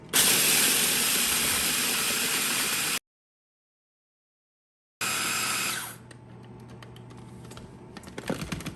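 Seeds and almonds are pulsed in a food processor: a loud grinding whir that stops abruptly, a pause, then another short burst that dies away into light clatter and rattling.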